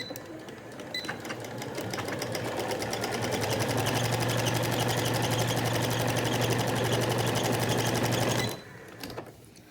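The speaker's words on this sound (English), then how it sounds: "I'm going to sew from this side down to this side, just to make sure that it's lined up" A sewing machine stitches a cloth face mask in one steady, continuous run of rapid needle clatter with a low motor hum, close and loud for about eight seconds before it stops abruptly.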